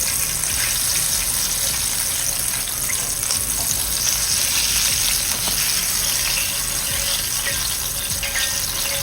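Chicken frying in hot oil for a Nashville hot chicken burger, a steady, dense sizzle and bubbling that holds at an even level throughout, close and fairly loud with no talking.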